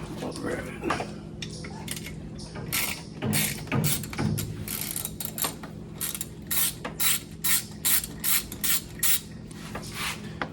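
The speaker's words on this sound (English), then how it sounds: "Next thing you do is go take the valve covers off." Valve covers coming off an old truck engine, with a series of close metallic clicks, ratcheting and clanks in quick irregular bursts, over a faint steady hum.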